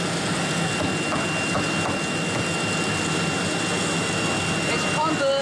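A vacuum pump on a three-spindle CNC router runs continuously, a loud, steady mechanical whir and hiss with an even drone that holds unchanged throughout, close by in a workshop.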